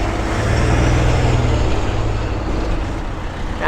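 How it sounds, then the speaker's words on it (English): Town-centre road traffic at a busy intersection, with a fire engine passing among cars, as a steady loud engine rumble that swells and then eases off. "Wait for the traffic, wait for the fire engine."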